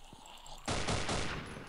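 A gunshot in the Half-Life mod Afraid of Monsters, a sudden loud blast that erupts mid-clip and lingers as a broad, dense roar.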